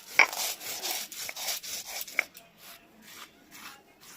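Poppy seed and mustard being ground by hand into a paste, a close rhythmic scraping and rubbing of stone strokes repeating steadily, with a couple of sharp clicks early on.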